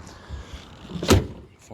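Rear barn doors on a 1999 Chevrolet Tahoe swing shut with a single solid thud, preceded by light handling clatter, with a voice audible nearby.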